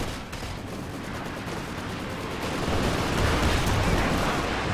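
Artillery barrage in a Company of Heroes 2 battle, a dense, continuous rumble of distant impacts and gunfire that swells louder toward the end, with no voices.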